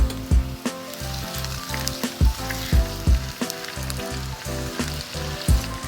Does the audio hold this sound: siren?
no